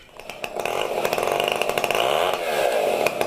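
A chainsaw cuts steadily through a large bur oak log being milled into slabs, the engine snarling loud and continuous at close range with small surges in pitch, and nothing else heard over it.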